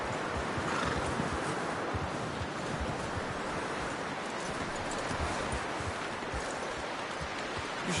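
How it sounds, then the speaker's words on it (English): Horse in Red Dead Redemption 2 at a camp, dense hoof clatter and snorting with a neigh, heard loud and close over a constant windy, surf-like background wash. "You should really tether that horse, Arthur."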